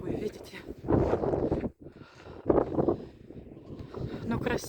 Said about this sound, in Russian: Ветер не умолкает.